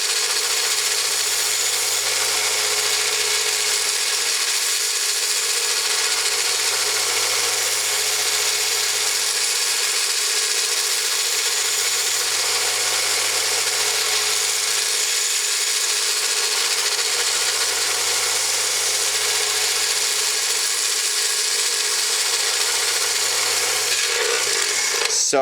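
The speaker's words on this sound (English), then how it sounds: "you could just shape them with a file or a belt sander and clean them up" A power tool, such as a belt sander, shapes and polishes a copper ring. A loud, steady abrasive hiss runs throughout over a low hum that pulses in regular cycles of about five seconds.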